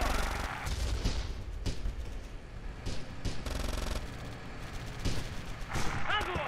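Loud booming tank gun shots in the game Theatre of War, several heavy blasts with a rumbling low end spaced across the clip over continuous background noise.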